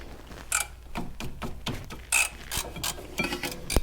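A ratchet wrench with a 13mm socket works against a stubborn bolt, giving loud, close clicking strokes in an uneven rhythm with brief pauses between the pulls.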